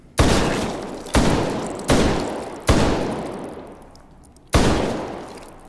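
Five loud 12 gauge shotgun blasts from a short-barreled, stockless Russian shotgun in the VR game Hot Dogs, Horseshoes and Hand Grenades, each sharp report trailing off into echo, spaced irregularly about a second apart with a longer pause before the last.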